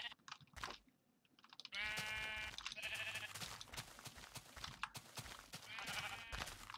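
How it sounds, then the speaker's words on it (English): Sheep bleating in Minecraft, a few drawn-out wavering bleats standing out over a busy game background, fairly loud and close, no talking. "Oh, sheep"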